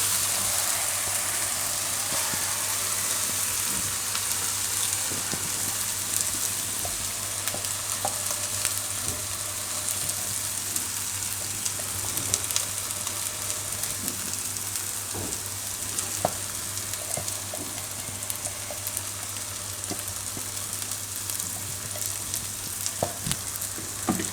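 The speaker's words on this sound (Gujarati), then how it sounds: "હવે એમાં આપણે નાખી દઈશું મકાઈ પીસેલી" Ground sweet corn frying in a pan with spices, mixed for a Gujarati sweet corn paneer curry: a steady, close sizzle runs throughout with occasional stirring scrapes and a low hum underneath, no talk.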